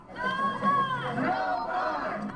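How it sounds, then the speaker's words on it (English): Dozens of demonstrators gathered outside a court hearing chant and call out together, a steady crowd roar of overlapping voices with rising shouts throughout. "The crowd calling for the 3 men charged in the death of Ahmaud Arbery to be kept in jail"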